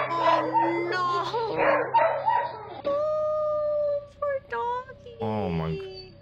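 A family dog shut in a crate at home barks, yips and howls in drawn-out wavering cries on surveillance camera audio, loud and close, with a person reacting in speech at the start.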